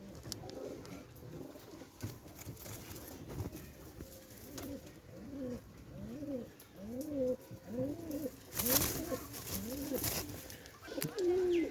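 Pair of teddy pigeons cooing repeatedly in a steady series of soft, throaty calls, close by, with faint background noise and brief louder rustles.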